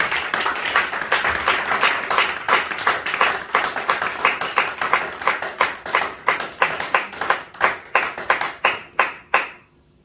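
A church congregation claps in unison, with loud, crisp rhythmic beats that build steadily, then slow and thin out into a few final claps before stopping.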